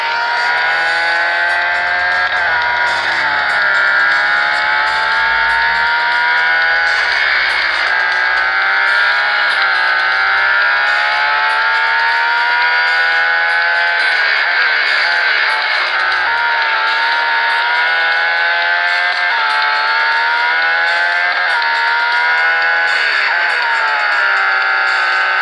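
Race car engine in the mobile racing game Real Racing 3, a loud sustained high-pitched whine that rises and dips with repeated gear shifts across the whole stretch, with no talk over it.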